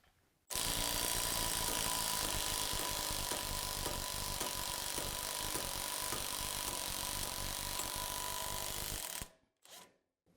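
A prototype right-angle impact wrench with square drives on both ends and an added wing runs in one continuous, loud, steady hammering burst for about nine seconds, then cuts off, leaving a couple of faint clicks.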